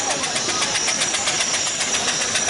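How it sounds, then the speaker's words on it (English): Steam traction engine running light at a steam fair, a steady mechanical chuffing rhythm with hissing, continuous and fairly loud throughout. "That engine will lope along at 15-18 miles an hour without too much trouble, especially running light engine like that."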